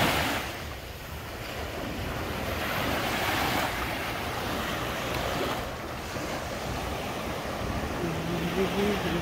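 Ocean surf at Playa del Carmen, Mexico, rolls onto the beach in a steady, loud wash mixed with wind buffeting the microphone, and someone briefly speaks over it.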